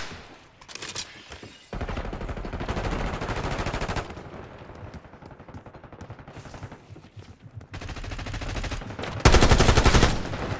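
Rapid bursts of automatic gunfire in Call of Duty Black Ops 6 multiplayer, several long sustained volleys with short gaps between them, loud and close.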